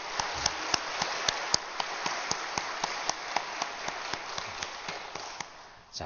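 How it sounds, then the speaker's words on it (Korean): A church congregation at an early-morning autumn prayer service claps in unison, a quiet, steady run of evenly spaced claps at a brisk tempo that fades out at the end. "수고한 모든 분들께 우리 감사의 박수"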